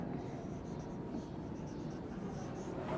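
Pen or marker writing notes during a business communication lecture, a steady faint scratching rasp that continues throughout without pause, with no talking.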